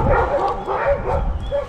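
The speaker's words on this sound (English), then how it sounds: "The dogs get so excited." Several dogs bark and yip excitedly at a passing UPS delivery truck on a rural mountain property, a steady burst of close, overlapping barks with some voice mixed in.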